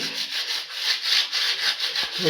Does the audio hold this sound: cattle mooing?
no